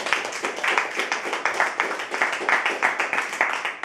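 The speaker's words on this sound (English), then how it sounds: "Let's give him a big round of applause." An audience at a Toastmasters speech meeting applauds with a steady, close round of clapping that stays even in loudness for several seconds.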